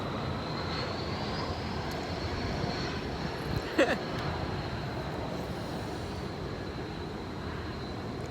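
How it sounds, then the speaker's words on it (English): A steady, broad engine roar drones throughout, like an airplane passing overhead, with a brief bump partway through. "Airplane."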